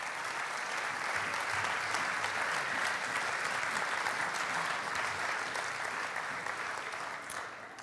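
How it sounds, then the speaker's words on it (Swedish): An audience gives steady, dense applause at a youth event as Sara Ekman comes up on stage, a full clapping wash that holds evenly and fades slightly at the end. "Ge henne en stor applåd när hon kommer."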